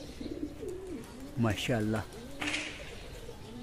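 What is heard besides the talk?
pigeons cooing while landing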